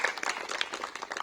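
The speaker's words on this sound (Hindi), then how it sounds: "एक बार तालियां करेंगे।" Steady applause from an audience at a teachers' encouragement event for fine art in Jhansi, a dense even patter of many hands clapping for the whole stretch, with no voices over it.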